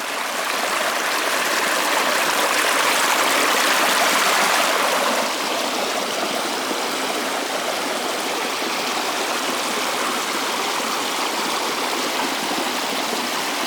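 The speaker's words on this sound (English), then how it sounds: "This waterfall real cool though." Constant near roar of a large bush waterfall with foam at its base, a dense hissing wash of falling water that dips a little in loudness midway and otherwise holds steady, alone without talk.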